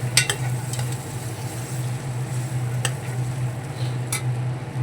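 Green peas are stirred in a hot pan of oil over a lowered gas flame. A steady sizzle runs throughout, broken by a few sharp clinks of the spoon against the pan.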